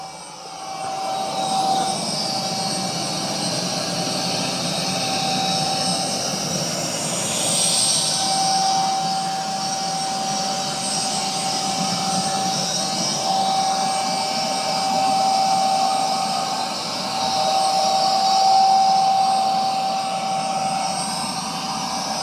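A Narwal Freo Z10 Ultra robot vacuum runs loudly and steadily at high suction, a continuous whooshing motor roar with a thin whine on top and slight swells in level throughout, with no talk.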